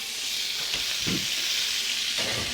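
Food sears in a hot pan with a dense, steady hissing sizzle, close up, punctuated by a couple of soft stirring or shifting sounds, with no talk.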